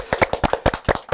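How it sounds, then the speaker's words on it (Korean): Quick bursts of hand clapping from an audience at an author talk, sharp and uneven, filling the short moment without any voices. "큰 박수로 시작하겠습니다"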